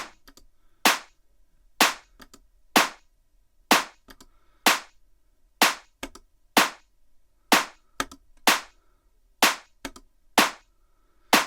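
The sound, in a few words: tech house clap sample thickened with processing, toggled on and off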